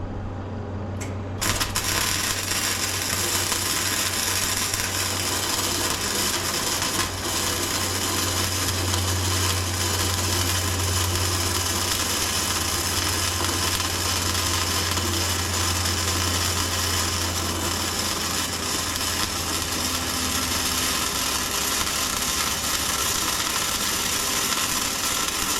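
A TIG welder works a metal joint, giving a steady, loud electric hiss and buzz that runs almost unbroken for the whole stretch after a brief quiet start, with no talking.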